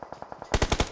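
Machine gun fire in a mobile shooter game, a faint distant rapid volley of evenly spaced shots giving way to a much louder, close burst of heavy automatic rounds.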